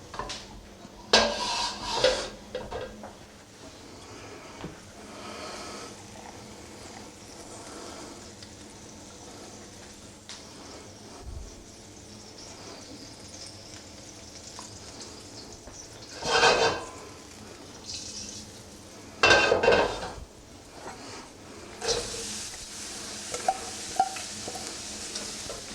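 Vegetables for shrimp egg rolls being stirred in a pan over a low sizzle, with scattered scrapes and clinks of a utensil against the pan, quiet and close.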